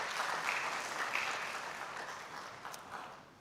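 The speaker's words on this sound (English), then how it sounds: "I kindly request that we give a round of applause to Mr." A conference audience applauds a presenter with a dense wash of clapping from many hands, moderately distant and steady before slowly fading out.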